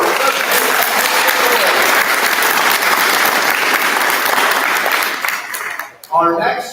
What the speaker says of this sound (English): Come on, a clap for her.